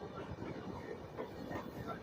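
A train passes at a railway crossing with a continuous low rumble and a faint rhythmic rattle of wagons, moderately distant, with a faint voice underneath.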